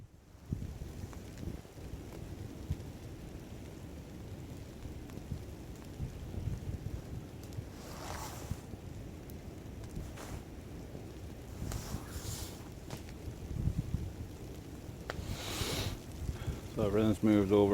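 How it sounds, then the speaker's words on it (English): Freezing rain falling outdoors in winter at a shelter campsite, a steady dense patter with occasional louder gusts and rumbles, heard close to the microphone with no speech. "Well, it's not snow, it's freezing rain."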